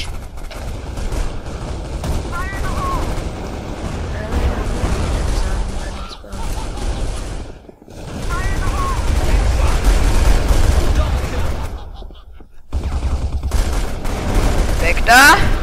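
Rapid bursts of automatic gunfire and single shots in the online shooter Crossfire, loud and close, coming in long sustained volleys broken by brief pauses, with someone talking intermittently in between.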